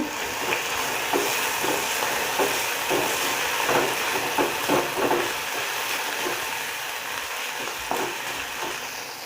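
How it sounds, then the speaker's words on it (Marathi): Ginger, garlic and green chili paste sizzling in a pan for vada pav, a steady hiss with scattered spatula stirs and scrapes, close and fairly loud, no speech. "आणि मिरचीची पेस्ट करून घेतलेली आहे ते आपण आता ह्याच्यामध्ये टाकायचे आणि चांगली फ्राय करून घ्यायचे"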